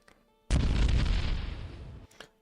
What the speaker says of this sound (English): like an anime explosion